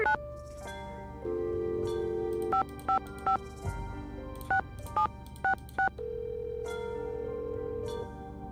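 A phone number being dialed in a Nancy Drew video game: a dial tone, then a quick run of separate touch-tone beeps, then a steady tone again, clean and close with no talking.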